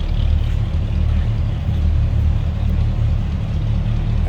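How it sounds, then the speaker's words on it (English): A 1971 GMC 1500 pickup with a 350 V8 idles from behind the truck, a steady low rumble with a loose exhaust pulse, loud and continuous with no talk. "A good sounding truck, a little rumble coming out of that 350"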